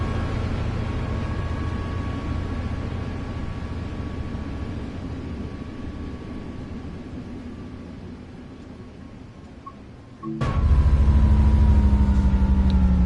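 A steady, droning Metrolink F59PHR locomotive engine in Train Sim World 5 rumbles continuously with a faint whine, then a sudden louder burst of low engine roar kicks in near the end.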